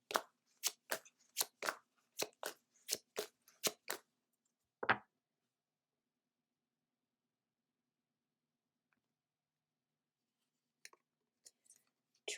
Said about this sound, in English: Next, we'll pull a card from the Work Your Light deck.